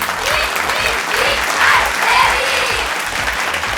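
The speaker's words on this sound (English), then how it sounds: "It's a very nice atmosphere right here at the moment, and the cheer is just increasing" An audience at a school pentathlon quiz applauds and cheers loudly and continuously, with dense clapping filling the hall and voices mixed into the crowd noise.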